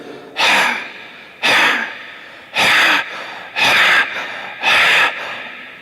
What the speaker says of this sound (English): you must get the sound by making a constriction in your throat like this